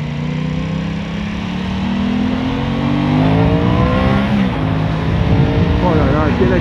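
An Aprilia Tuono 660 roadster motorcycle engine rises in pitch as it accelerates hard, loud and continuous, with a voice talking over it.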